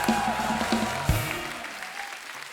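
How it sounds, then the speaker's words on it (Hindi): A brief burst of studio audience applause on a TV comedy show that quickly fades, with a voice briefly heard at the start. "जोरदार तालियां हो जाए हमारे मेहमानों के लिए"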